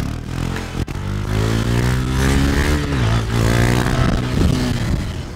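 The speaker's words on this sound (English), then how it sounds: "clutch, rev it in the mid-range and cover the brake." Small-displacement motorcycle engine revved steadily in the mid-range, a loud, close buzzing drone whose pitch rises and falls slightly over several seconds, with a brief dip near the start.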